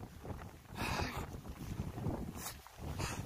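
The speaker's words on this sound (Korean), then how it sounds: "바람 엄청 불어보네" Strong gusting wind during a rainstorm on Mudeungsan mountain roars across the microphone in broad, surging blasts that swell and fade over a few seconds.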